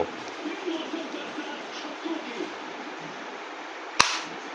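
A single sharp crack from a toy bolt-action gun fired at a bottle comes near the end, loud and abrupt after a few seconds of quiet background hiss.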